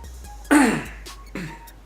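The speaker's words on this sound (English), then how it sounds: "I got to clear my throat here" A person clears their throat twice, a harsh rasping burst followed by a shorter, softer one, close up in a quiet room.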